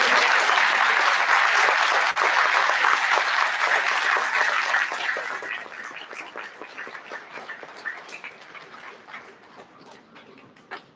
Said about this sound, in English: Let's give them a round of applause and thank you.